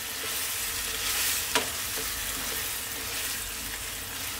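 Spicy goat heart with spring onion being stirred in a pan, a steady sizzle of frying with scraping stir strokes and one sharper clink near the middle, close and continuous with no voices.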